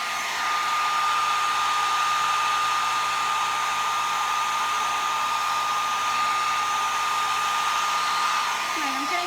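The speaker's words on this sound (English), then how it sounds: "I don't know if you can hear me over the hairdryer." A hair dryer blows continuously and loudly on an alcohol ink painting on a ceramic tile, a steady whirring roar with a constant whine that never changes.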